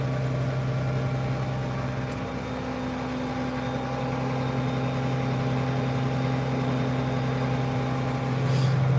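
A six-cylinder tractor engine runs while subsoiling apple tree rows, a steady, fairly loud droning hum that holds constant throughout with no pauses.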